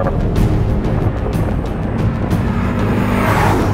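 A 2024 Lexus LC500 engine roars through hard acceleration with quick shifts of its 10-speed automatic, loud and sustained, with brief dips between gears and no talking.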